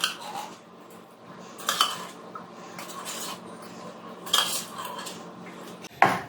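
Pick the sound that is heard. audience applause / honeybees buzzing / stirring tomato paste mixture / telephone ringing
stirring tomato paste mixture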